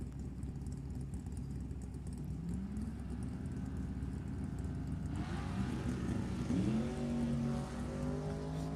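Drag race cars, a Cavalier and a Mustang GT 350, at the line and launching. Low engine rumble and idle build up, then rise into a sharper revving surge before settling again.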